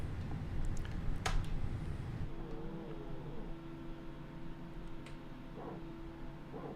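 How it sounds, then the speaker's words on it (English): Engine number 1 of an airliner starts up in Microsoft Flight Simulator. After a brief clatter, a faint, steady whine rises and settles into a hum, quiet and somewhat distant. "And let's start up engine number 1."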